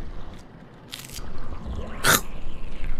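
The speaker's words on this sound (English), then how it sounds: "It's just the sound of someone eating corn" Two short, sharp crunchy bites sound close up, like someone eating corn, against a quiet, slightly noisy room.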